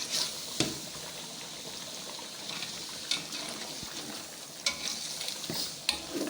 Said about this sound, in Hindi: इसके अंदर सारे मसाले ऐड करते हैं और अच्छी तरह मिक्स करते हैं।